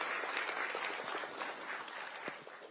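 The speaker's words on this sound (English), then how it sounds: "if you can all stand and just stretch and clap for His Excellency the President" An audience of Kenyans living in China, gathered in Beijing, stands and applauds President Ruto with steady, moderately distant clapping that fades slightly toward the end.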